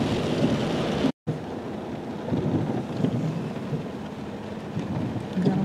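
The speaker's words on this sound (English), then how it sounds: "Got a waterfall there on those church steps." Rainwater from a heavy storm pours down a church's steps like a waterfall, a loud, steady broadband rush with a brief cut near the start.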